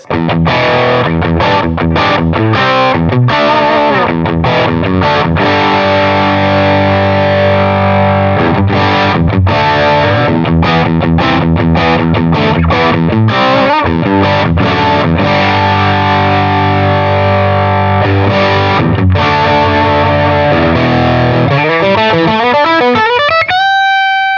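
Electric guitar played through a Stone Deaf SD-30 amp head with the lows turned all the way off, loud and distorted with sustained chords and riffs, ending in a rising run.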